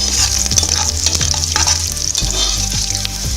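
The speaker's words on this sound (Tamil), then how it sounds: "இப்போ முந்திரி நமக்கு நல்லா வறுபட்டதும் நம்ம எடுத்து வச்சுருக்க சீரகம், மிளகு, இஞ்சி, கருவேப்பிலை சேர்த்துக்கிறோம். நல்லா தாளித்து விட்டுருங்க." Cashews, cumin, pepper, ginger and curry leaves sizzle loudly in hot oil in a pan for ven pongal, a dense continuous frying hiss with occasional stirring clinks and scrapes, close up.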